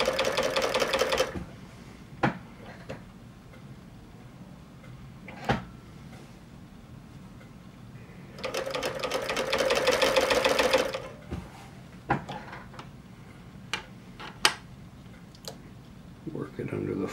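An industrial cover stitch sewing machine fitted with a binder runs in two loud, steady bursts, separated by a stretch of quieter handling clicks and taps as fabric is worked under the foot.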